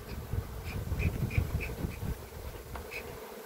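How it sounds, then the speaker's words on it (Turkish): Angry honeybees buzzing loudly and continuously around a hive during a honey harvest, with close-up swarming drone and occasional sharper whines as individual bees pass near, over low rustling handling noise. "Arı çok kötü kızdı."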